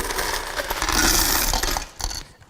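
A rush of coins poured into a coin counting machine clatters and jingles, a busy metallic rattling that fades, then a short final clink.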